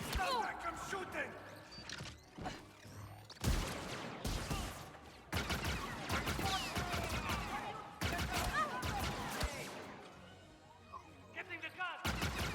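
Blaster gunfire in Star Wars Outlaws during a pirate fortune fight, repeated sharp shots in clustered volleys over several seconds mixed with game voices and effects.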